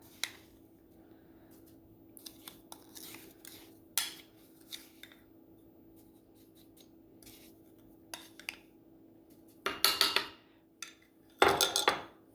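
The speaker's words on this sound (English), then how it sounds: "we are going to take and separate this into 2 bowls and 1 in the container still" Homemade fall sugar scrub, meant for tinting yellow and orange, is scooped from a mixing bowl into two bowls: a few soft scrapes and taps, then two louder bursts of spoon scraping and clinking against the bowls near the end, with quiet gaps between.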